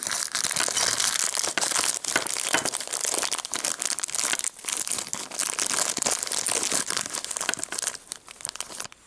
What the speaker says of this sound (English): let's get those bags open and see who we have inside